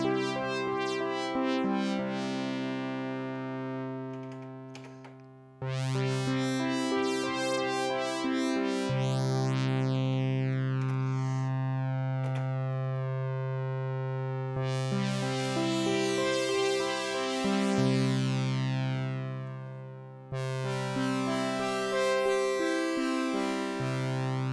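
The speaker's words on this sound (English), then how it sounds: "so that is the sound of the Prologue filter." Sustained polyphonic chords from a Korg Prologue 16 synthesizer, the filter sweeping open and closed so the brightness swells and fades across several held chord changes, with no talk.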